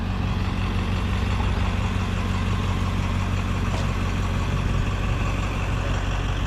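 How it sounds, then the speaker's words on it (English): A tour bus engine idles as it pulls away by a roadside in town, a steady low diesel rumble that stays constant and fairly close, with no talk over it. "that tour bus is finally leaving"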